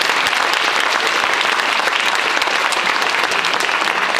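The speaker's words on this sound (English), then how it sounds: "Let's give one more round of applause to Jack for going to Milligan." An audience at a high school signing day event claps, a loud, steady round of applause from many hands that runs throughout.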